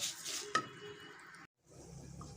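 Rice grains frying in ghee in a pan, a soft steady sizzle with a brief scrape of stirring, then a short pause before the gentle sizzling resumes.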